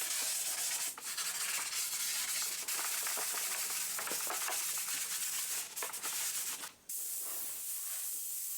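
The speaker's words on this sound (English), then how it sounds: "hand sanded the hard to get areas with a sanding sponge" A sanding sponge is rubbed by hand over wooden barn doors, giving steady, close, scratchy strokes of hiss that continue for several seconds without talk.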